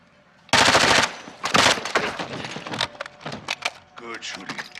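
Rapid automatic gunfire in Call of Duty Modern Warfare 2 opens with a loud, dense burst, then breaks into shorter staccato volleys and scattered cracks, with game effects and a voice mixed in.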